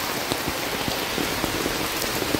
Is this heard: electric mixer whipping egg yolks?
no